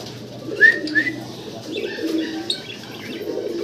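Large big-sized pet pigeons coo in a low, murmuring band with a few sharper chirps over it, fairly close and steady for a few seconds, with no talking.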